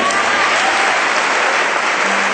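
A church congregation claps hands together in celebration of the Lord, a loud, dense, unbroken wash of clapping with no pause.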